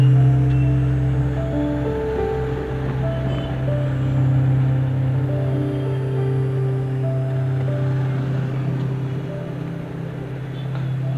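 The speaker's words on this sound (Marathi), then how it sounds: "तर मानपाड्याला इथे लागलेले आहे ट्रॅफिक" Road traffic in Manpada, Palava City, passing a rider on a food delivery run: a steady, loud low engine drone and road rumble with tonal vehicle hum throughout, close and continuous with no talk.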